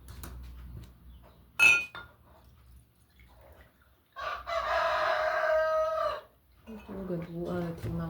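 A rooster crows in a sustained call through the middle, fairly close and clear. A brief sharp sound comes before it, and there are dish and utensil clatters with faint voices afterward.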